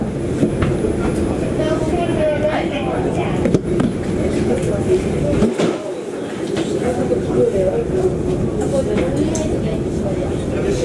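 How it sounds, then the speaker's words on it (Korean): An Incheon Airport maglev train pulls away, a steady rumbling drone that fills the carriage, with a brief dip midway and a continuous hum underneath, while an onboard announcement voice talks over it. "열차가 출발합니다."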